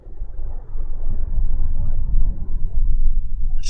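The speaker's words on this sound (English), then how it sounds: "we see the gusts of wind across the ground" Steady low rumbling roar of wind gusting against the microphone at a cricket ground in Sano ahead of an incoming storm, swelling and buffeting continuously, with a faint hiss creeping in at the end.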